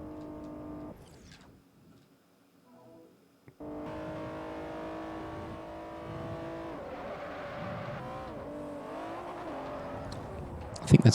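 A 2009 Mercedes-Benz SL 65 AMG Black Series in Forza Motorsport 4 revs hard after a quiet opening, its engine note climbing and shifting through gears, loud and close, ending in a short burst of tire noise.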